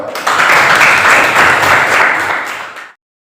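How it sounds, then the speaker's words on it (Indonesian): A classroom group breaks into lively applause, many hands clapping together for a few seconds before it stops abruptly. "Tepuk tangan dulu"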